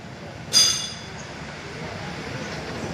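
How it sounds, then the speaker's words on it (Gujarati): A low, steady rumble of a passing train at a level crossing fills the clip, with a sharp metallic clink ringing out briefly near the start. "જો રેલગાડી જાય છે છુક છુક છુક છુક"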